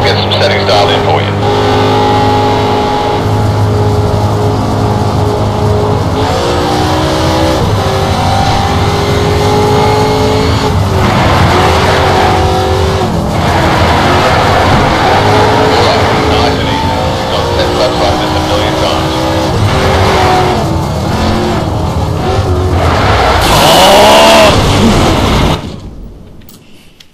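Race car engine from the game Need for Speed Shift droning through a lap, rising and falling with shifts and revs, loud and continuous with a voice talking over it.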